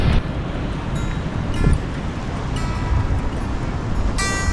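Broad, steady wash of water rushing in, with surf-like noise and some wind buffeting the microphone throughout, at Arikok National Park, Aruba.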